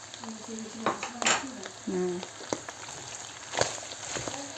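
Liver and onions sizzle steadily in a pan, with a few utensil clinks and stirring scrapes close by; a voice murmurs faintly beneath.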